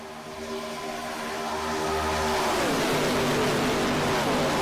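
ARCA stock cars in the iRacing sim roar past the start-finish line as a pack, the layered engine drone swelling from a steady hum to a loud, dense roar as they close in.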